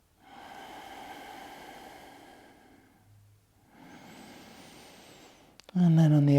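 Slow, steady breaths drawn in and let out during a yoga movement exercise, close and soft, with a brief pause between two long breaths and a louder rustle at the end.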